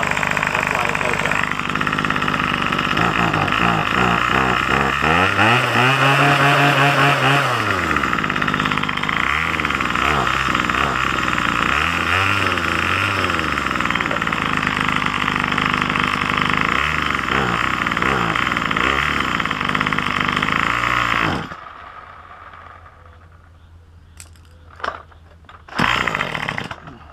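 Craftsman string trimmer engine running steadily and loud during carburetor tuning, revving up and back down several times before cutting off, leaving near silence with a few faint knocks.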